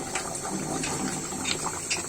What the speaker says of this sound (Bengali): আর একটু পানি দিচ্ছি